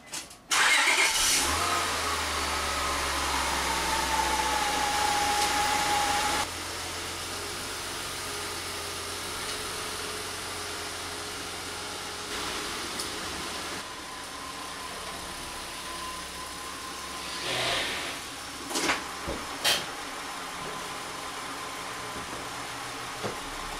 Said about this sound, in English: now that we took it on our test drive, you can see we got the vehicle good and warmed up